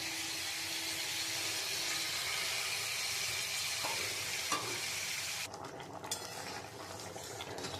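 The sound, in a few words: boiled matar dal added to frying pan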